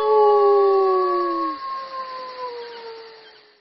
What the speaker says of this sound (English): The baby wolf is learning to howl.